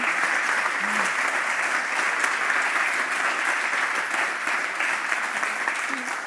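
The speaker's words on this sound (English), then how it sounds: "Big round of applause for our first panel." A large audience applauds a conference panel, dense sustained clapping filling the whole stretch at steady loudness with no voices over it.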